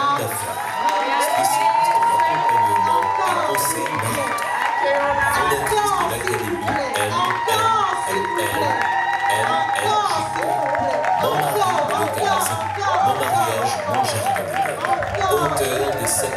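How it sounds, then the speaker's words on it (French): A lively crowd cheers and shouts continuously, with claps and excited voices blending into a loud, sustained roar. "Et je voudrais vous demander de faire un méga tonnerre d'applaudissements à Maman Béa."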